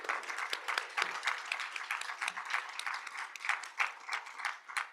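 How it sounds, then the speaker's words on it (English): Applause for poetry performers at a National Poetry Month event, a steady patter of many hands clapping in a room, moderately loud with no talk over it. "So please give them another round of applause."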